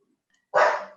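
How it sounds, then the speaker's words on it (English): A single dog bark cuts in suddenly, loud and close, then trails off, with no talking in the room at that moment. "Oh, that's my dog."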